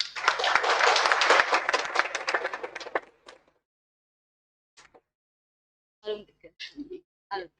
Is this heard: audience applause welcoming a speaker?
yes